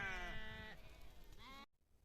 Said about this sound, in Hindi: तमाम भेड़ बकरियां हमारे आने से आगे की तरफ दौड़ रही हैं